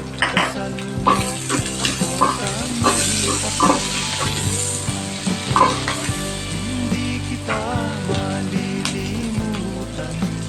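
Onions fry in oil in a pan for a Filipino chicken neck and liver dish, giving a continuous sizzle. Frequent clanks and scrapes from a utensil stirring against the pan run through it.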